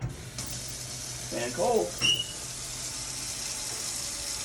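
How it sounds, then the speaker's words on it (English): Warm water, about 75 degrees Fahrenheit and mixed from hot and cold, runs from a tap into a sink as a steady rushing hiss that lasts the whole time, with a brief spoken remark over it. "warm water is filling up this sink"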